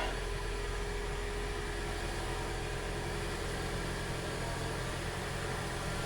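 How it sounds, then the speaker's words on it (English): A Toyota RAV4 Hybrid's engine idles steadily with a low, even hum and faint vibration, no voices. "Engine's running."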